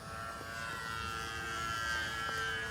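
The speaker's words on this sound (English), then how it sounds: "let's do a high-speed pass, but no throttle" Draco RC model plane making a high-speed pass with the throttle off, a steady, distant airy whoosh with a faint tonal hum from the airframe and prop, fairly quiet, no talking.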